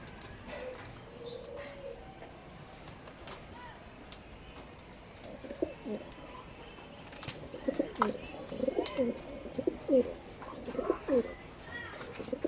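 Pigeons coo with soft, repeated throaty calls that grow busier and louder toward the end, with some chirps and faint background noise.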